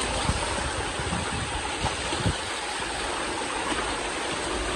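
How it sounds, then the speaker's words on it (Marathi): Rainwater rushing steadily across a monsoon trekking path on the way up Kalavantin Durg, a loud, continuous broadband flow with no talking. "इकडे आपल्याला पाण्याची वाट भेटलेली आहे, पूर्णपणे इकडे पाणी आहे"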